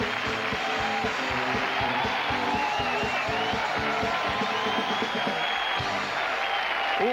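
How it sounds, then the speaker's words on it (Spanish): Steady applause from a large TV studio audience at a 1993 New Year show, with some cheering and whoops mixed into the sustained clapping throughout. "Noto aplausos y también un poco de cachondeo"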